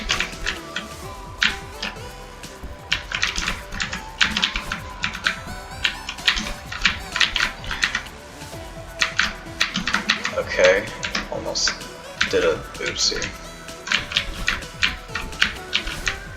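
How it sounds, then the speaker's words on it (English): Rapid bursts of keyboard key clacking, close and busy, with brief pauses, while a voice speaks briefly over the typing. "Could hear my keyboard panicking for a moment."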